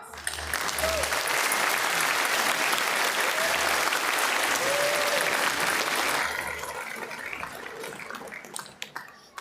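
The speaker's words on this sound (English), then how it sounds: "Let's give them a round of applause." A large university commencement crowd applauds steadily for about six seconds, then the clapping thins and fades out.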